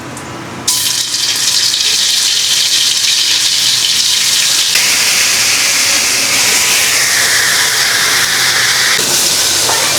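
Whole cumin, then cumin paste and chili paste, frying in hot oil in a village kitchen: a loud, steady sizzle and hiss that swells abruptly after a quiet start and carries on without pause.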